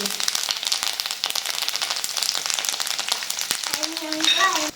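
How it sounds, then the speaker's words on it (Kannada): Peanuts and curry leaves fry in hot oil for garlic chitranna, giving a loud, dense crackling sizzle with sharp pops scattered throughout and a brief tonal sound near the end. "ಈಗ ಕರಿಬೇವು ಸಹ ಫ್ರೈ ಆಗತ್ತೆ"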